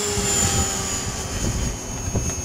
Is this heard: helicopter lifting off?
yes